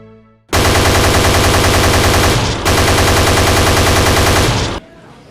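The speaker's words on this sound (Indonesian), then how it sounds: "Kenapa Ade ditembak" Heavy automatic gunfire from an Indonesian historical film, loud and close, rattling in two long continuous bursts separated by a brief break before cutting off.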